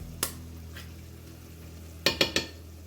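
Ground turkey and green beans with chili garlic sauce are stirred in a pan, with a faint sizzle underneath, one early clink and a quick run of three sharp utensil taps against the pan near the end.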